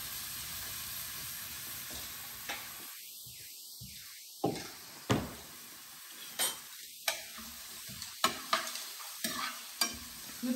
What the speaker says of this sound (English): So let me put this in the oil.